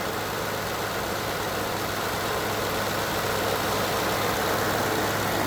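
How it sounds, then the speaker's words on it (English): A 2018 Ford F-150 with the 5.0 V8 idling in its clean engine bay, a steady low, even hum with no knocks or clatter, continuous and fairly quiet with no talk. "nice quiet motor."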